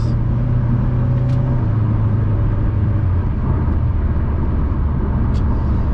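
Saab 92x Aero fitted with a JDM Sportshift transmission, driving with a loud, close engine drone that steps down in pitch as it shifts, then settles into a steady rumble with road noise.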